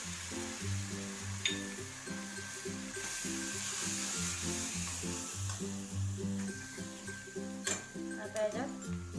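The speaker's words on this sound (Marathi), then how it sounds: "आता छान फ्राय करून घेऊया।" Veg Manchurian frying in a hot pan, a steady broadband sizzle running throughout with occasional clinks of a utensil, under a voice speaking and background music.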